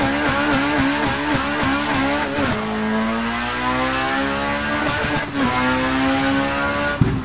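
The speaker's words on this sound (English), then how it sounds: "in true Honda Civic style, I'm gonna bring it to a stop, put it into first gear, launch it" A Honda Civic in the Assetto Corsa racing game launches hard from a stop in first gear, its engine screaming through rising revs with quick gear changes and a tire squeal, loud and close with no talk.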